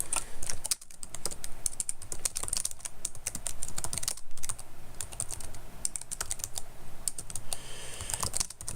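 Rapid typing on a computer keyboard during a live stream, a close, continuous clatter of key presses in quick bursts with brief pauses and no voices.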